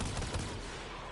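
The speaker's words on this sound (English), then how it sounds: "Destroy it with weapon fire." Rapid weapon fire in the Rainbow Six video game, a dense burst of shots aimed at destroying a hive, loud and continuous over a brief moment.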